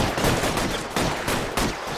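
Gunfire crackles through a large shootout in the video game LA Noire: a few sharp, loud bursts of rapid shots, separated by short gaps.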